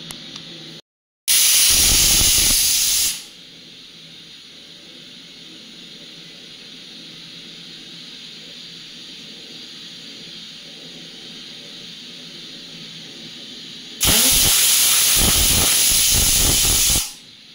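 A pressure cooker whistle on a cooking pot of yakhni pulao lets out steam in two long, loud hissing blasts, one near the start and one near the end, with a steady softer hiss running between them.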